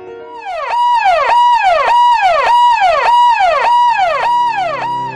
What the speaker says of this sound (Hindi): नीली बत्ती वाली गाड़ी के साथ सायरन की आवाज